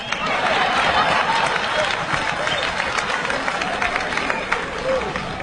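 Crowd applause and clapping from a live comedy audience during a year-end radio show, a steady broad wash of many hands with murmuring crowd noise throughout.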